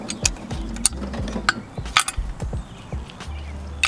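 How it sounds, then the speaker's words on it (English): Rapid ratcheting clicks from a wrench tightening intake manifold bolts on a Honda H22 engine in a Civic build, several short bursts of close, crisp pawl clicks with brief pauses between strokes. "Gonna go with a wrench and do all the way across the top"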